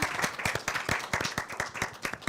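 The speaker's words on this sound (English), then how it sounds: "A round of applause for her." Audience applause from a live stage event, dense clapping running steadily throughout at moderate loudness with a faint voice underneath.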